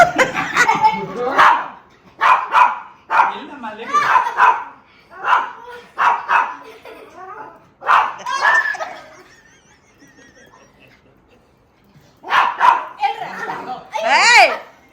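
Puppies yip and bark in short bursts amid people talking and a voice, with a few high squeals near the end.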